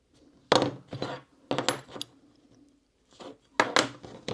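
A coin is handled on a workbench during leathercraft, giving a few close, light metallic clinks and taps in short clusters separated by quiet pauses.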